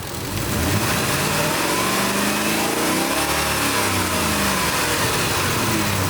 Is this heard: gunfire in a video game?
no